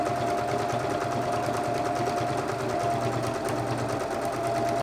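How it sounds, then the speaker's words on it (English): Sewing machine running continuously along a fabric hem for a basket lining, a fast steady mechanical whir with rapid needle rhythm, close and loud, stopping abruptly at the end. "So I'll just sew this hem along the length of here,"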